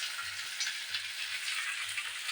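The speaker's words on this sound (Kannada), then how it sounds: "ಹಾಗಾಗಿ ಬೇಗ ಒಗ್ಗರಣೆ ಮಾಡ್ಕೊಂಡ್ತೀನಿ." Steady oil sizzle as a tempering is fried for drumstick sambar, a continuous bright hiss with faint low bubbling, close and alone with no talk.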